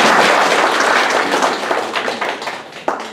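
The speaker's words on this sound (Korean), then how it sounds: "한번 박수로 청해 듣도록 하겠습니다" A crowd at a political debate forum applauds steadily, the dense clapping gradually thinning out toward the end.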